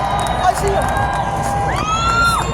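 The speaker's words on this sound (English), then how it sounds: "This is a big crowd." A large outdoor political rally crowd in Mosinee, Wisconsin cheers and shouts steadily, loud and dense, with whoops and a rising yell standing out near the end.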